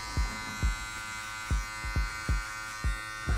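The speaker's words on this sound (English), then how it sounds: "when I clipper over comb, I like to angle my blade against the comb" Electric hair clippers cutting hair over a comb during a soft line fade haircut, with a steady motor buzz and seven regular, evenly spaced strokes, close and clear with no talking.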